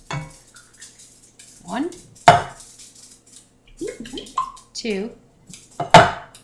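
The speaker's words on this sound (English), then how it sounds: "I will place each of the tomato cans into a pot" Cans of tomatoes set one by one into a cooking pot in a home kitchen, sharp metallic clunks and clinks at spaced intervals, close and clear, while a woman counts aloud between them.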